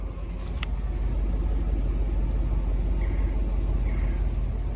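An Oldsmobile Aurora engine idles with a steady, even low rumble, close and loud, with no sputters or voices, running smoothly after a repair.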